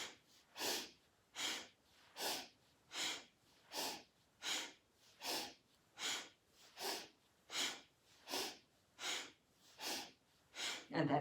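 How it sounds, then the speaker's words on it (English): Rhythmic breathing during a yoga spinal reset exercise, about fourteen steady breaths in and out at a brisk, even pace, close and clearly audible with no talking. "Inhale, exhale, inhale, exhale."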